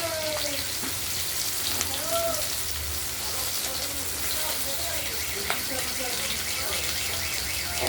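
Pabda fish frying in a pan, giving a steady close sizzle like light rain, with a voice speaking over it at times.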